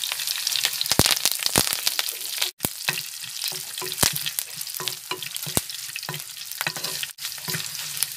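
Mustard seeds and curry leaves fry in hot oil with a constant close sizzle and sharp crackles and pops scattered throughout, with a brief lull twice. There is no talking.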